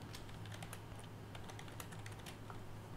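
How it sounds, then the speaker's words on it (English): Rapid, irregular clicking of keys on a computer keyboard, close and clear over a steady low hum from a computer setup. "Who are you typing to?"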